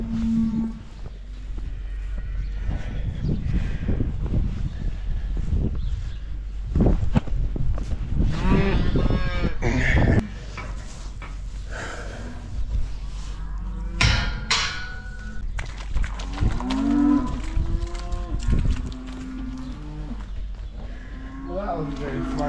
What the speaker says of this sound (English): Oh, some cows.